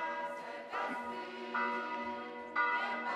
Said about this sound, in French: vous pouvez entendre les cloches qui sonnent l'Angélus